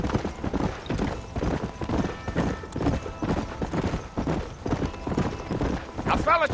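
Horse hooves clip-clop in a steady trotting rhythm in the Red Dead Redemption western game, continuous and fairly close under ongoing spoken dialogue, with a brief whinny near the end.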